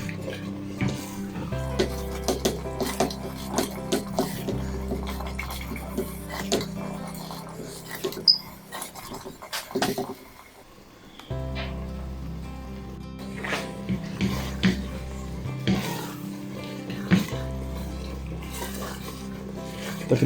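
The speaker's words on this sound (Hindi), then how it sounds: "हाई फ्लेम पे इसको तकरीबन 10 मिनट हम भूनेंगे।" Minced keema fries over a high flame, a steady sizzle under frequent scraping and clanking of a spoon against the pot, easing off briefly midway before resuming.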